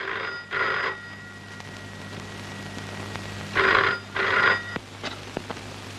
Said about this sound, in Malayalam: രജനിക്ക് ഫോൺ വന്നിരിക്കുന്നെന്ന് പറയും.